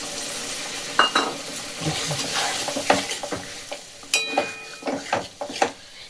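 Soaked paneer drops into a sizzling masala and is stirred, loud close spatula scrapes and clatters against the pan over a constant frying hiss, with no talking.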